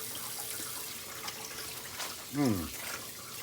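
Tap water runs into a kitchen sink while salted cabbage is rinsed for kimchi, a steady hiss ending in a brief gurgle as the water drains.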